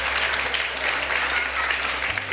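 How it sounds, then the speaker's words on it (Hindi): A crowd at an Iftar quiz gathering breaks into applause, dense and continuous clapping that fills the room at close range and carries on for the full stretch. "तालियों में दम नहीं"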